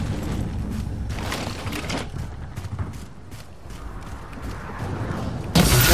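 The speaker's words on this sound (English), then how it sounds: "let's see how well these pew-pew guns work on the tank" Repeated bursts from alien guns firing at a tank in Halo 4, a steady clatter of shots with mechanical rumble underneath, ending in a louder blast.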